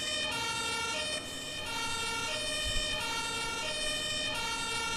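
A steady electronic fire engine siren in the video game Emergency 4 wails continuously at close range, layered tones holding over a constant engine rumble.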